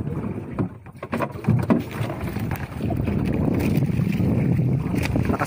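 Rowing by hand aboard a small fishing boat whose old engine has broken down, with wind rushing steadily over the microphone and water sloshing against the hull; no engine running.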